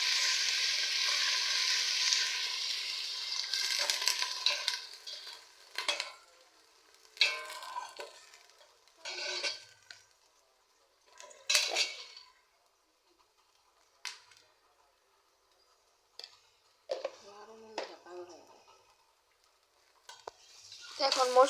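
Onion and ginger-garlic paste frying in a pot for khichuri, a loud sizzle at first that fades into intermittent stirring clatters and scrapes, with a few bursts of renewed frying.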